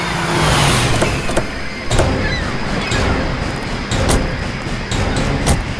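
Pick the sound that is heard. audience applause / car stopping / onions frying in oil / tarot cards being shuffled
car stopping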